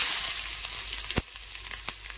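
Finely chopped onion fries in a little oil in a kadhai on a gas stove, a soft, steady sizzle with a few sharp pops and crackles.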